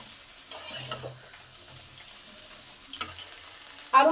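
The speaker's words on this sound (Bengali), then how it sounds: "বিনস, সিম আর আলু একসঙ্গে দিয়ে দিলাম। এবার ভালো করে সমস্ত কিছু মিশিয়ে নেব।" Beans, flat beans, carrots and potatoes being stirred in a pan, a few scraping clatters of the spoon against the pan over a soft background sizzle, spaced out and fairly quiet.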